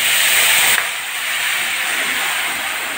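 Marinated mutton hitting hot oil with cinnamon, cloves and bay leaves, a loud burst of hissing sizzle that drops slightly in intensity after the first moment, then keeps going steadily.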